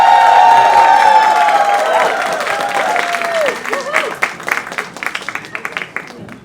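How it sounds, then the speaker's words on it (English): Live studio audience at a community radio show broadcast from atop Saddleback mountain in Rangeley, Maine, breaking into a swelling round of applause and cheering that begins loud and dense, then thins into scattered claps. "Big round of applause right now."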